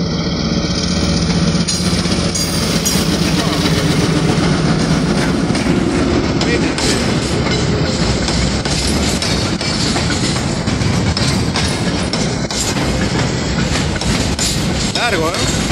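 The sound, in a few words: Trenes Argentina Carga freight locomotive and wagons passing level crossing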